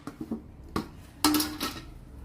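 Vegetables being stirred and tossed in a pan for pasta, with several light scrapes and clinks of a utensil against the pan and one louder scraping clatter midway, close and alone.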